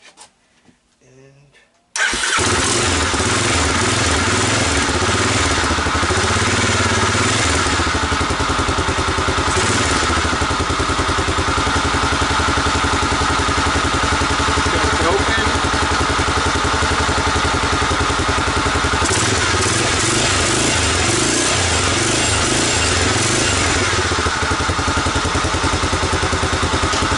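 An ATV with a flooding carburetor cranks and then catches about two seconds in, settling into a loud, steady idle that runs continuously with some clatter and uneven pulsing.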